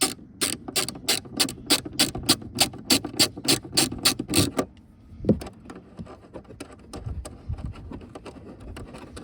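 Ratchet wrench clicking rapidly in a steady run of about a dozen sharp pawl clicks while backing out a 10mm bolt on a 2004-2011 BMW 1 Series tail light, then fainter handling clatter and rustling.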